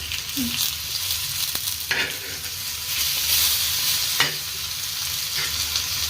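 Semolina-coated rohu fish frying in a pan, a continuous hissing sizzle close by, broken by a few sharp clicks and scrapes from handling the pieces, no talk.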